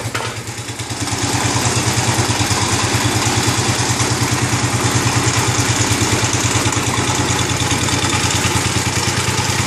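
An IH Cub Cadet 149 garden tractor engine starts and settles into a loud, steady close-up idle with a fast, even chugging pulse and mechanical clatter.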